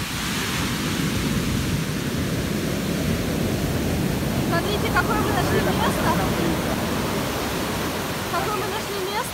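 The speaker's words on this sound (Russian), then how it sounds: "И волны, смотри, какие волны." Continuous roaring surf as waves wash in on a large beach at Point Reyes, California, with faint voices and bird-like chirps appearing partway through.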